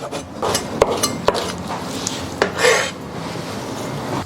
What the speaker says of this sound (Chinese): 把蛋饼移到案板上，然后切成小块。